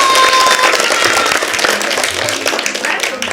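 Applause for the winning group A at a children's show broadcast from Kandahar, a dense burst of clapping from a crowd that starts loud and slowly tapers over a few seconds.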